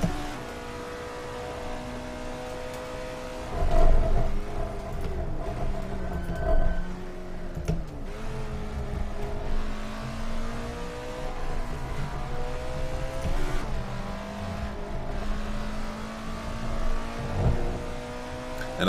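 Alfa Romeo 33 Stradale V8 in Assetto Corsa at Monza, engine rising and falling in pitch as it revs and accelerates out of corners, steady and moderately loud with shifts between gears; no talking.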